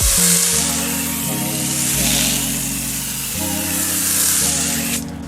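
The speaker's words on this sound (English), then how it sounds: "I'm going to start here with a quick spray down of the wheel" Steady hiss of a water spray rinsing a car wheel rim and tire during a calm morning wash, loud and continuous with slight shifts in intensity, cutting off abruptly near the end.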